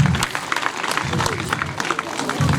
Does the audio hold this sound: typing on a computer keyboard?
no